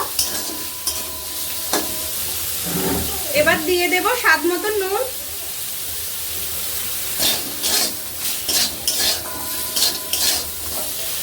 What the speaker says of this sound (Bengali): একটু কড়াইতে নেড়ে নিচ্ছি স্যুপের জন্য